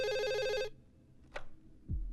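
A telephone gives a loud, warbling electronic ring in a film scene, cut off abruptly after a moment, followed by quiet, a sharp click and a low thud.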